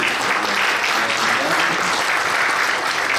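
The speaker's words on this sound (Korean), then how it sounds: "축하드립니다. 큰 박수로 보여주십시오." Steady, loud applause from a congregation filling a church installation service for a new Korean church council president, a dense continuous clapping that holds throughout without pause.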